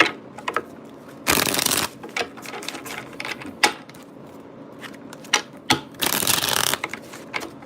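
Two quick riffle shuffles of playing cards, each a dense papery burst under a second long, with soft handling clicks in between.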